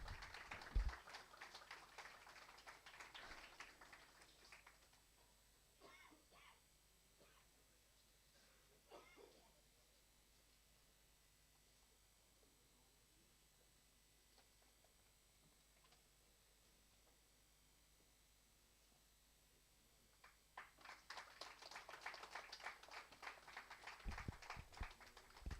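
Faint scattered clapping at a chemical engineering conference felicitation, quiet through the middle, then building into fuller applause near the end.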